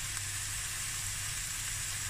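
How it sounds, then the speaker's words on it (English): Mustard seeds sizzle and hiss steadily in a hot pan of oil while a hake and snoek fish curry is started, a close, even frying crackle with no talking. "now I'm gonna add the mustard"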